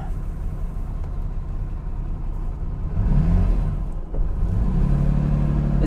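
A 3.9-litre V12 in a classic Lamborghini Miura, mounted right behind the driver, rumbles loudly from inside the cabin and swells as it accelerates, with a deeper surge partway through.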